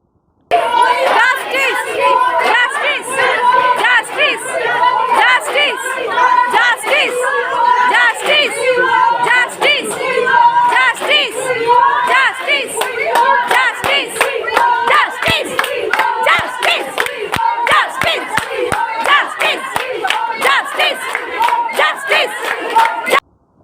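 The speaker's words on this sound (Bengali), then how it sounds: "মুখে তাদের একটাই স্লোগান, উই ওয়ান্ট জাস্টিস" A large crowd of women chants the protest slogan "We want justice" in a loud, rhythmic, continuous chorus, with shouting voices and scattered claps throughout.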